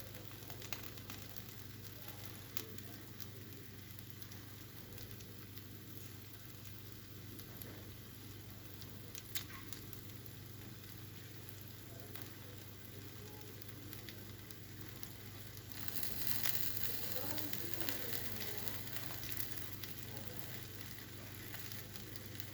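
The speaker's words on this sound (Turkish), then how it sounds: "Şu anda evin içerisinde mutfakta pişiriyorum." Food sizzles steadily on a Sinbo electric grill in a home kitchen, a soft continuous frying hiss that grows slightly louder and busier near the end, with no talking.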